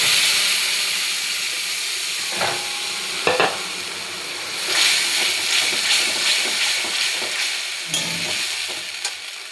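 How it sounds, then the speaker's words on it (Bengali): Spiced yogurt masala poured into a hot kadai for a Bengali doi katla fish curry, setting off a loud, steady sizzle and hiss with scraping stirs and occasional clatters throughout. "দই যে মশলাটা মেখে রেখেছিলাম সেটা আমি কড়াই পুরোটা ঢেলে দিলাম"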